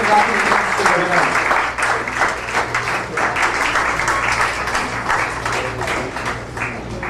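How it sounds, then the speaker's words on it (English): Sustained audience applause fills a hall at a moot court event, dense steady clapping from a large crowd that carries on at full strength throughout without easing off. "Huge round of applause, ladies and gentlemen."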